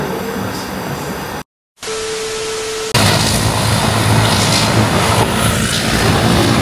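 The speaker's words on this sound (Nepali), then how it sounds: "प्लेन चाहिँ रेडी हुँदै रहेछ" A loud, steady broadband roar of an airplane engine, briefly cut to silence, then returning even stronger with a constant low hum.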